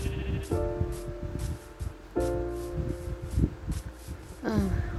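Sheep bleating in Minecraft: three loud, wavering bleats spaced a couple of seconds apart, over soft footsteps and ambient game noise.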